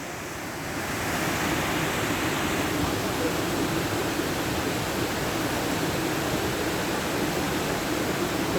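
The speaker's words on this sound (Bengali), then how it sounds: "এই নদীর আওয়াজটা আরো সুন্দর" Steady rushing river water at Bhimkund waterfall in Keonjhar, Odisha, a broad continuous roar like a fast stream close by, swelling slightly after the first second and holding constant.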